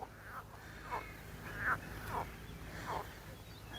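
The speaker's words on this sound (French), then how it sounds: "C'est plein de grenouilles." Frogs hidden in grassy tufts beside a lake give soft, repeated croaks at a steady rhythm, about one every half second, fairly faint over a quiet outdoor background.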